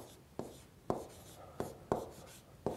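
Close, crisp handwriting strokes as signed-number multiplication is worked out for a seventh-grade math lesson, several quick taps and scratches in an uneven rhythm with no voice over them.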